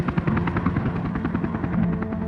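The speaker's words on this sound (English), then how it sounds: "Cessna traffic helicopter Westpac 1 is airborne tracking to Newcastle." A Cessna traffic helicopter on an air rescue mission lifts off, its rotor throbbing in a steady, loud, close chop with a deep engine drone running throughout.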